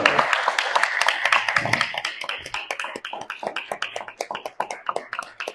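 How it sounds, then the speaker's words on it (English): An audience at a gathering breaks into a round of applause, dense and loud at first, then thinning into scattered individual claps that fade toward the end, with no voices over it. "Give me a big round of applause."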